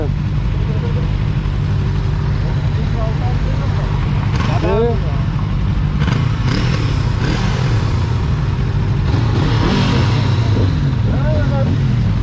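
Motorcycles on a night group ride in İzmir give a steady, close engine rumble with a few brief revs, mostly buried under loud, continuous talk and shouting.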